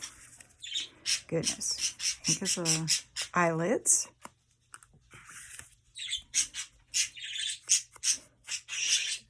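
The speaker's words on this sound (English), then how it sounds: "Sorry for the birds, but I can't take them out of here because their cage is just too big" Caged pet birds squawk and chirp in sharp, repeated bursts through the room, loud and close, partly alongside a person speaking.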